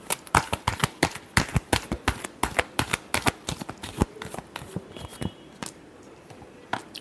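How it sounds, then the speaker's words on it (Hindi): Tarot cards are shuffled by hand in a rapid run of crisp riffling clicks and slaps, close and steady, thinning out toward the end with no talking. "Last shuffle."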